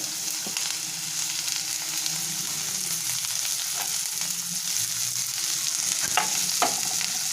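Chopped onions and green chillies fry in hot oil for an egg and cucumber curry, a strong, steady close-up sizzle with occasional clicks and scrapes from stirring, no voices.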